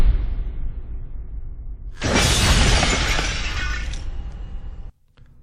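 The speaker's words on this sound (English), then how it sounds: "it begins to break up and shatter into a bunch of little pieces" A glass-like shattering effect accompanies animated text breaking into many small pieces, a loud sudden crash of breaking that sustains with tinkling debris for about three seconds before cutting off abruptly.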